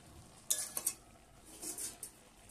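Pumpkin leaves frying in a pan for Bengali village-style lau shaak chorchori, with a soft sizzle under a few sharp clinks of a utensil stirring against the pan.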